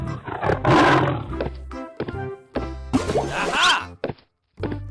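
A tiger roar from a cartoon animal-sound sequence, loud and drawn out, heard among other brief thumps and animated sound effects with several bursts of varying pitch.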